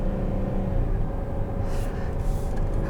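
A 2020 Buick Enclave Essence drones with a steady low engine rumble from inside the cabin after the shift into third gear, holding an even, continuous note with slight road noise.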